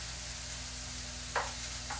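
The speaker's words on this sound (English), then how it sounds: "I'm just going to let that sizzle for a little bit." Food for keto lasagna sizzles quietly in a pan as a steady, faint hiss, broken by two quick stirring scrapes.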